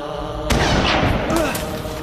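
A gunshot in a French-language Christian film, one sudden loud blast that cuts in and rolls on as a booming, reverberant roar for over a second.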